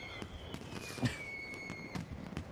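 Fireworks in Final Fantasy XIV pop and crackle at a moderate distance, with several sharp bursts over a sustained whistling tone and light background bustle.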